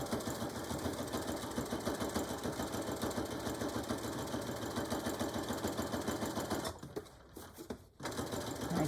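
A sewing machine stitches steadily around the outside edge of a fabric beach or diaper bag, its rapid needle clatter running almost without a break and pausing briefly near the end before resuming.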